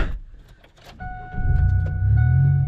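A car drives slowly on a cold, foggy Alaskan road, its tires straining for grip; a low, steady rumble swells in after a quieter start and holds loud to the end.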